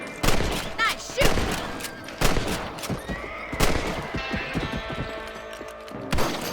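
In Red Dead Redemption on Xbox 360, rifle shots ring out at rabbits: about seven sharp, loud cracks at irregular intervals. A horse whinnies early on, and ambient outdoor game sounds fill the gaps.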